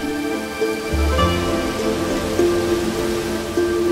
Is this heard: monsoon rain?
yes